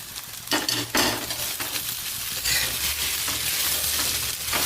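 Soaked poha and onions stirred in a pan, loud close scraping and rustling strokes over a continuous frying sizzle, with a low steady hum beneath and no talking.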